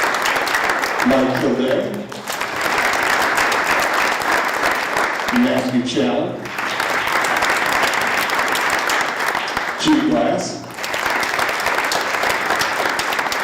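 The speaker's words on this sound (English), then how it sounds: "To a grand final round of applause." Steady audience applause at a school board of education business meeting, sustained and loud, briefly interrupted three times as a voice reads out individual names over it.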